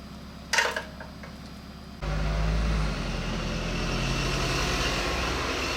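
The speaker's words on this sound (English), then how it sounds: "That was a relatively noisy diesel car." A fairly noisy diesel car engine starts up outdoors with a short burst, then settles into a steady, loud, deep rumbling idle that carries on without a break.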